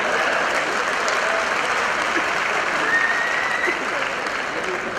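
A live audience applauds at a comedy poetry show, steady dense clapping from a sizable crowd that stays loud and continuous the whole time.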